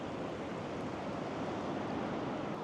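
Ocean waves crash along the Oregon coast at sunset, a steady broad roar of surf that fills the whole moment without a break or voice.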